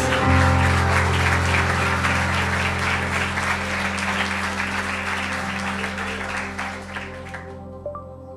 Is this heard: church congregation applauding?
yes